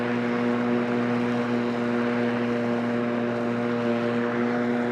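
A Litheli battery-powered 18.5-inch lawn mower runs steadily at close range, its electric motor giving a constant tonal whine with strong harmonic hum over broadband cutting noise, unchanging throughout.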